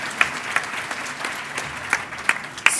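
A ceremony audience claps for an honoree, a steady patter of many hands with a few sharper claps standing out close by, lasting a few seconds with no voices over it.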